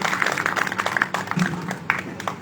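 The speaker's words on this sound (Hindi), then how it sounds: "तालियां बजा दिया करो थोड़ी थोड़ी।" A seated audience at a ghazal and song gathering breaks into scattered, moderately close applause, irregular claps overlapping through the moment with a faint murmur beneath.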